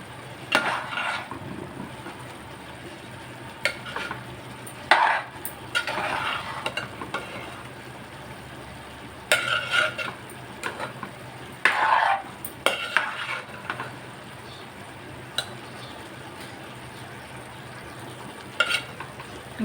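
Prawn biryani being stirred in a pot, scraping and clinking of a spoon against the vessel in intermittent bursts over a faint low sizzle, close by with no talking.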